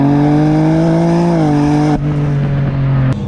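A 2022 BMW M4 Competition G82, rear-wheel drive, accelerates hard with a loud, steady engine drone that climbs in pitch, drops sharply at a gear change, then builds again, heard from inside the cabin.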